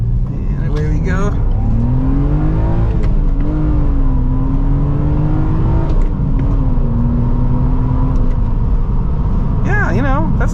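A 1999 BMW M Coupe engine revs and pulls hard from inside the cabin, a loud steady drone rising in pitch across several seconds, with a voice speaking over it.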